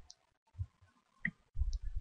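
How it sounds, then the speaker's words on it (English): A few light computer mouse clicks on an on-screen button, sharp and brief, spaced out and close with a low thump at the end. "To update the user request reply, click the button."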